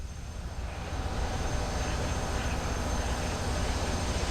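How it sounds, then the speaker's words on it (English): Low, rumbling mechanical exhaust roar from Space Shuttle Atlantis auxiliary power unit exhaust vents before launch, swelling in and holding steady, with a faint rhythmic pulsing beneath the broad noise. "Those are the exhaust vents from the APUs that you hear."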